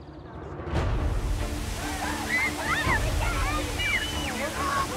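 Water sprayed from a child-battling robot gadget, a continuous hissing splash close by, with people talking and shouting over it throughout.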